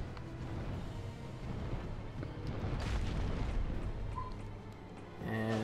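A dragon breathes fire in Dark Souls II, a sustained, loud, rumbling roar of flame that swells and surges for several seconds, ending in a sharper burst.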